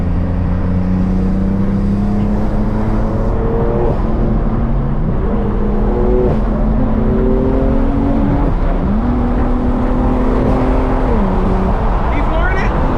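Engine of a 2016 BMW M3 pulling hard during a spirited drive, a loud continuous in-cabin drone with rising and falling pitch sweeps as it revs through gears, steady throughout with occasional talk over it.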